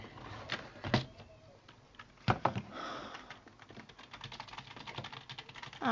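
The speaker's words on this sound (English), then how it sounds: "Get the keyboard out." Computer keyboard typing, a series of irregular clicks and key taps with a few sharper louder strikes, close and fairly quiet, without speech.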